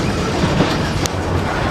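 A train rumbles steadily along the rails at a railroad museum, a continuous close, loud rolling noise with faint clatter and a brief high squeal.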